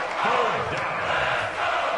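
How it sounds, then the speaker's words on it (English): A game-generated crowd roars and cheers in a football video game ahead of a big third down, a loud sustained swell of massed voices with a few rising shouts. "The crowd getting into it as we come up on a big 3rd down"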